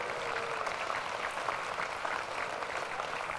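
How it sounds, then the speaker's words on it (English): Steady, fairly faint applause from a gathered audience for a man named Peter continues evenly throughout, with no talk over it. "Y'all give Peter a round of applause."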